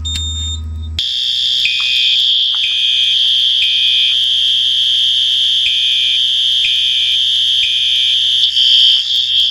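Fire alarm in the Roblox video game, set off by pulling a pull station: after a brief low hum, a loud continuous electronic tone sounds with a regular pulsing pattern, alone and sustained.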